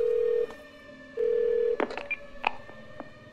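Telephone keypad tones and dialing in the video game 12 Minutes, a steady tone broken by a quick run of separate button beeps, clear and close with no talking.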